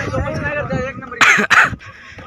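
A voice speaks briefly, then two sharp, close coughs burst out in quick succession before talking resumes.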